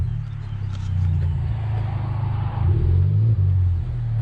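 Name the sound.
2018 Honda Civic Type R engine with racing exhaust revving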